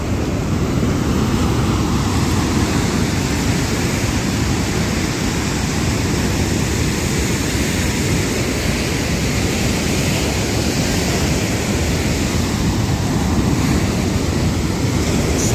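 Sea waves wash onto the shore in a steady, loud roar of surf, mixed with wind buffeting the microphone.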